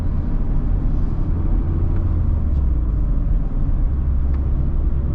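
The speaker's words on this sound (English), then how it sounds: "It is a little bit loud in here. It is a sports car." Steady low road and engine rumble inside the cabin of a 2021 Mazda Miata RF Grand Touring sports car with a manual gearbox and targa top, an even drone with no talking.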